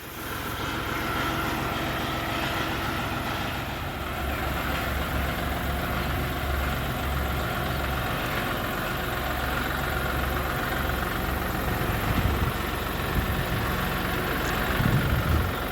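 A John Deere 5050 tractor engine idles steadily, a continuous low rumble with a deep throb, close and fairly loud throughout with no talking.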